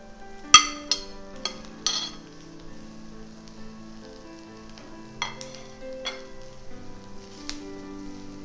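Cooked fish pieces tossed with rice in a pan for fish biryani: a few sharp clinks and scrapes of the spoon against the pan, with a faint sizzle underneath, and no talk.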